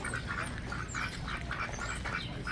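Ducks quacking at a farm, repeated nasal calls in steady bursts roughly every half second, moderately close with a bed of farmyard background noise.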